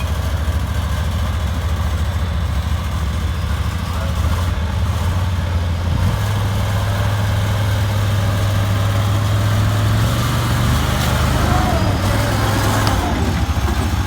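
A John Deere Gator Traxx tracked utility vehicle at an outdoor engine show, its engine running steadily and shifting pitch as it turns, with people talking over the continuous rumble.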